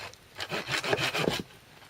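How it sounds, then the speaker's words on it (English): Handsaw cutting through a dense piece of birch hardwood, a quick run of rough back-and-forth strokes, close and fairly loud, with no talking. "I got a piece of hardwood here, birch, so I'm gonna cut it off"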